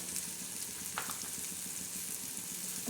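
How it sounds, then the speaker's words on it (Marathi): Russian-style usal with chili powder, turmeric and salt sautés in a pan, a steady close sizzle with a soft stirring scrape, continuous and alone. "आता हे चांगलं आपण असं परतून घेणार आहोत चांगली चमचमीत अशी उसळ"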